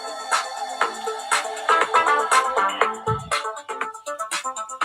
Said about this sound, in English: I've got a groovy ringtone. Bit disco.